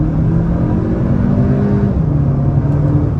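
A 2023 Audi A3 premium sedan in sport mode accelerating on a test drive, a steady loud engine drone with rising tonal hum and road rumble heard from inside the cabin, no talk.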